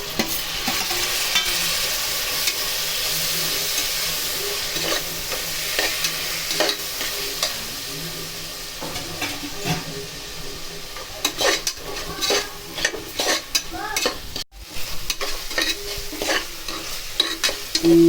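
Onions sautéing in a frying pan, with a continuous crackling sizzle and repeated scraping strokes of a spoon or spatula as they are stirred, close and steady, fading to intermittent clinks near the end.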